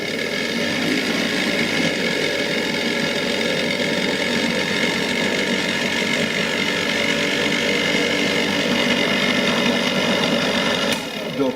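Steady mechanical whir of an electric motor turning an old generator in a science museum, a continuous dense hum with a rattling texture that holds evenly throughout and stops with a click at the end.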